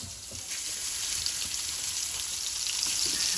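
Potatoes fry in a pan with a constant close sizzle and crackle of hot oil that grows slightly louder toward the end, and a few soft stirring knocks can be heard underneath.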